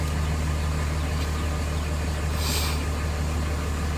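A 2004 Dodge Ram 2500 Quad Cab 4x4 with a Cummins turbo diesel engine idling steadily, a low even drone with a deep hum, moderately quiet and unbroken, no one speaking.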